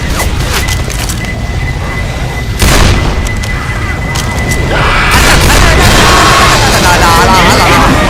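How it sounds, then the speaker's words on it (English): A pipe bomb blows up in the zombie shooter Left 4 Dead 2, with loud booming blasts and crashing debris over steady game noise, while voices talk in the background. "Throw the pipe bomb."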